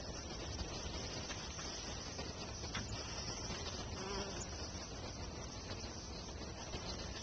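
Honeybees in an opened beehive after a second hive body was added and the entrance smoked, a steady dense buzzing hum of many insects close by, continuous and even with no talking.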